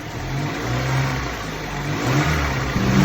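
A Honda car engine after a DIY fix revs near and loud with a steady rumbling drone that swells and eases a few times, with no talking.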